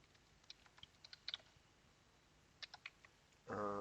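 Light keystrokes on a computer keyboard, entering a stock name into a calculator: a few sparse, faint clicks in two short bursts, then a sudden louder noise at the end.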